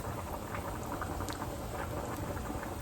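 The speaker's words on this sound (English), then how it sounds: "Juice is still sizzling on it." Steady crackling sizzle of hot steak juices with butter, a dense continuous hiss with faint pops, close by and without talking.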